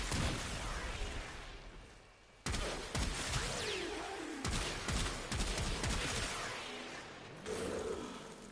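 Rocket-firing shotgun arm weapon in the Warframe video game blasting repeatedly, with sharp loud bursts in a rapid volley and dense mechanical clatter filling the scene, no talking.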